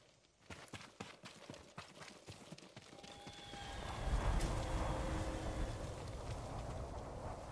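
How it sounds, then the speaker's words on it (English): Horses gallop in Ghost of Tsushima, a steady run of hoofbeats at mid distance that swells into a louder, rumbling pounding partway through, with no speech over it. "Fucking horses in the way."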